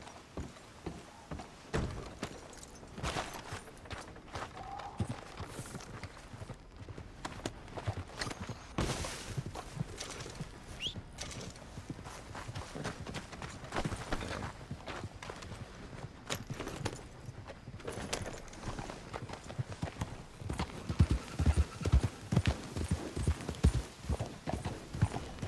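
Horse hooves clip-clop steadily at a trot and gallop in the Red Dead Redemption 2 video game, with rhythmic thuds running throughout and growing louder and heavier near the end.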